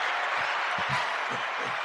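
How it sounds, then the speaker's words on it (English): Crowd cheering and applause rolls through as a short, steady burst of clapping and whooping, fairly loud and dense throughout, with no talk over it. "and the crowd goes nuts"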